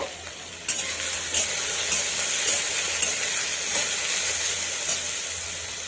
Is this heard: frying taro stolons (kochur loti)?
yes